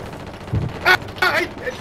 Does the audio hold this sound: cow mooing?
no